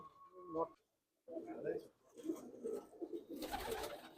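Pulsar pigeons coo close by in soft, repeated, throaty burbles, broken by a short silence early on.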